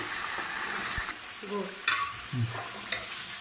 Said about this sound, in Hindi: लहसुन का पेस्ट 5 टेबल स्पून। अब इसको हम अच्छी तरह भून लेंगे 10 मिनट।